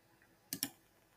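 Two quick mouse clicks in Primavera P6 software, sharp and close, heard alone against a quiet room with faint background hiss.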